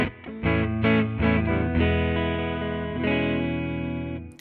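An inexpensive electric guitar played with a clean tone through a Benson Chimera amp plugin: a few quick strummed chords, then one full chord left to ring and slowly fade, with no talk.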